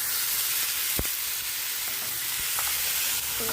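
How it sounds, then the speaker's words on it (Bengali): Vegetables tipped into hot oil seasoned with cumin, turmeric and salt sizzle and fry steadily, with a continuous bright hiss and a few soft stirring knocks from the pan, no talk. "পরে ঢেলে দেবো আমি সবজিগুলো।"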